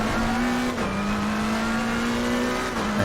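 Race car engine in Assetto Corsa Competizione at Donington, droning steadily at high revs, then briefly dipping as the throttle lifts, with a faint tire squeal over a constant loud mechanical roar.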